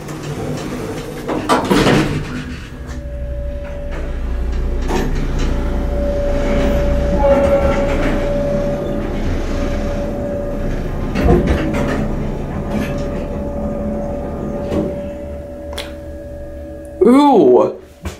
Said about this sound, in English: Let's listen to the motor.